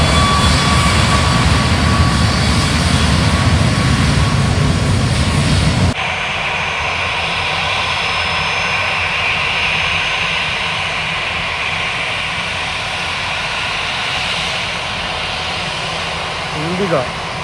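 Jet airliner engines whining and roaring as the plane turns at Kochi airport, a loud steady drone heard from close by the back side of the field. The tone shifts partway through, and a voice speaks over the noise.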